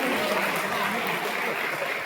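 Audience applause at a school quiz competition at Goethals Memorial School, Kurseong: a steady, dense wash of many hands clapping at once, even in level across the whole stretch with no voices standing out.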